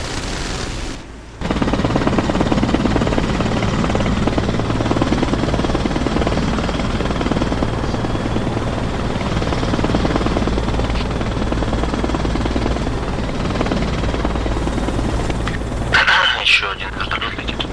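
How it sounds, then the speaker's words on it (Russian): A helicopter in the military game Arma Reforger thunders with a loud, continuous rotor roar that lasts almost the whole stretch. Gunfire and players' voices over the radio cut in under it. "Еще один вертолет летит."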